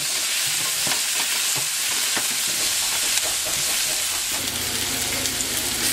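Carrots fry in a pan for braised short ribs, a constant dense sizzle and hiss with scattered stirring clicks and scrapes, close and steady throughout.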